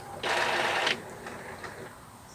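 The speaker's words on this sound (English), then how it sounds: "So turn on your printer again." An Epson L120 printer powering up after being switched on, giving a loud whirring mechanical burst of about three-quarters of a second, then quieter fading clicks and faint motor noise close by.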